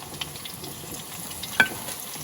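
Quiet, steady sizzling of chicken Kiev cutlets frying in oil, with a faint crackle or pop now and then.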